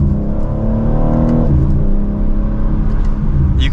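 A 2025 BMW M4 Competition Convertible pulls hard from second gear, its engine note loud and close, rising steadily before a quick shift drops the pitch and the climb starts again.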